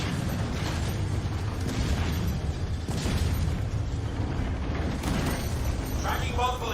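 A turret blows up in the Star Citizen space game, a heavy rumbling explosion under dense combat noise and mechanical clatter, loud and sustained, with voices talking over it.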